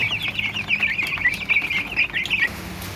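A crowded pen of 21-day-old broiler chickens clucking and peeping in a continuous chorus, close and fairly loud, ending abruptly after a couple of seconds over low background hum.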